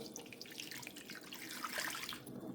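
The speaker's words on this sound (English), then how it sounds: "Now you add 3 cups of water or beef broth" Water is poured from a cup into a crockpot for corned beef and cabbage, a soft, quiet splashing trickle that rises a little toward the end, with no talking.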